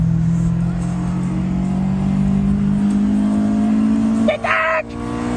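A Honda S2000 engine revs up steadily and loudly from inside the car on a snowy road trip, the drone climbing in pitch before cutting off sharply, with voices over it.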